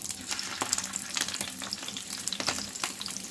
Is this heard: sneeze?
no